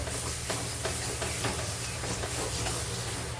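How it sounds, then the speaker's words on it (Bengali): Steady, loud hiss and sizzle of dry spice masala frying and being stirred in a pan for Bengali prawn malai curry, a continuous dense sizzle with faint scraping strokes and no talking. "মশলাটা ভেজে নেবো খুবই সুন্দরভাবে কষিয়ে নিতে হবে"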